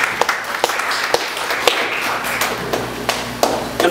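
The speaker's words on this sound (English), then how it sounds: "Let's give God a clap of praise." Church congregation clapping in praise, a dense sustained spread of hand claps with sharper individual claps popping out over a low murmur of the crowd.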